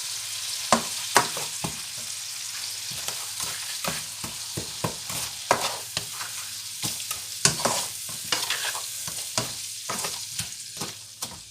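Fried rice and mushrooms frying in a hot oiled wok, a continuous loud sizzle broken by repeated sharp scrapes and clanks of stirring at an uneven rhythm, close and without voices.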